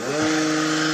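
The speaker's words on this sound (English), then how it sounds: "got some sort of chainsaw." A chainsaw running during garden hedge work, a loud sustained buzzing engine drone that swells slightly and holds steady.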